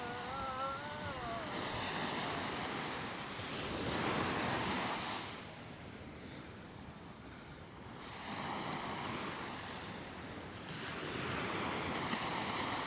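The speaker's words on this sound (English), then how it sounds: "Isn't that great with the sounds of the waves?" Steady ocean surf rolls in on Coney Island beach, with broad washes of breaking waves swelling and easing in slow cycles under light wind, fairly distant and without voices.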